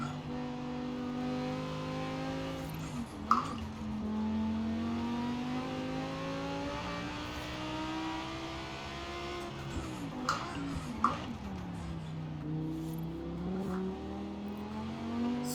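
The Italdesign Zerouno supercar in Forza Horizon 4 drives under a steady, sustained engine drone. Its revs climb through long pulls with brief dips at gear shifts, and a few faint clicks and taps come through, with no speech.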